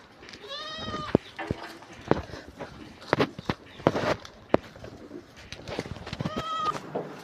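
Goats, a small herd just let loose, bleat in repeated quavering calls near and far, mixed with sharp clatters and shuffling as they move about outdoors.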